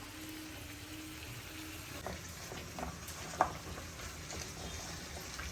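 Chicken pieces frying uncovered in a pan over a low flame for homemade shawarma, giving a steady soft sizzle and crackle with a few small pops and one brief sharp clink midway.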